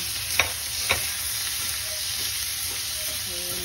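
Boiled tofu with pepper frying in a pan, a continuous close sizzle with two sharp utensil clacks early on and faint scraping as it cooks.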